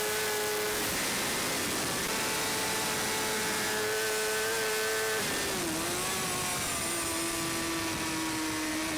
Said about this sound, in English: Listen to that engine sing, it's absolutely howling.